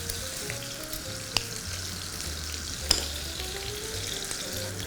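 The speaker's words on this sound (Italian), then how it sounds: "l'olio è ancora ben caldo e ci metto subito le punte. Le faccio andare per 2-3 minuti" Asparagus tips fry in hot oil, a steady, close crackling sizzle throughout with a couple of sharp clicks from the pan and a low background hum.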